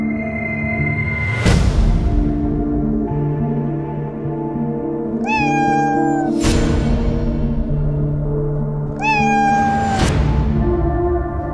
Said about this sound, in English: If you hear the meow